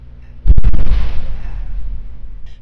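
A single loud explosion-like boom rings out over Hualien, Taiwan, a sharp close blast followed by a long rumbling decay that fades over about two seconds.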